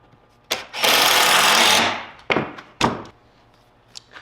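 A power driver sinks a screw into a cedar planter box, one sustained whirring burst of about a second, bracketed by sharp knocks and clunks from the wood, close and loud with no talking.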